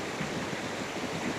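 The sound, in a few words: waterfall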